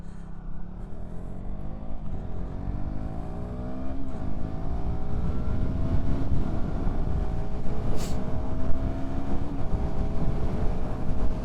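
A 2016 KTM Duke 200 motorcycle, non-ABS, accelerates to speed, its engine note climbing through rising tones between gear shifts beneath a growing roar of wind, loud and close, with no talking.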